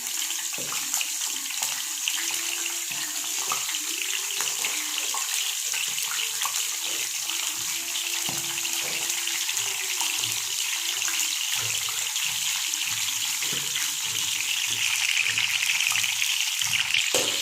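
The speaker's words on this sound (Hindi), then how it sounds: "ये हमारे बैंगन फ्राई हो रहे हैं।" Eggplant (baingan) slices frying one by one in a pan of oil for a spiced stuffed-eggplant recipe, giving a steady bright sizzle and crackle that holds evenly and swells slightly toward the end, with no talking.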